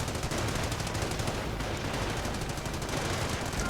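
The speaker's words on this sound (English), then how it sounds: "Machine guns, mortars though left behind. Sniper could be going down any second. Mortar blasting away." Machine gun and mortar fire in a World War II strategy game battle, a dense continuous barrage of rapid gunshots and blasts, loud and unbroken throughout with no voices.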